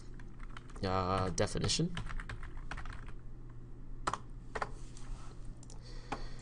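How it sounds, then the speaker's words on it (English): Computer keyboard typing, a short run of keystrokes sounding up close while a rounded-rectangle button shape is labelled in PowerPoint, with speech partly over it. "I'm going to type"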